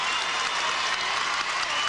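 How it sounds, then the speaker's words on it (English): A crowd at a 1997 professional gymnastics championship in Portland giving a gymnast a standing ovation, with dense, sustained applause and cheering filling the hall. "And she gets a standing ovation from the crowd here in Portland."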